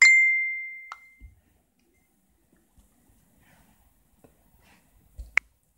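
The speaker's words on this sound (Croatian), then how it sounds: "Tu mi stižu neke poruke." Phone message notification tones arriving in a quiet room during a live stream: a bright ringing chime at the start, a short ding about a second later, and another sharp chime near the end, with faint knocks between.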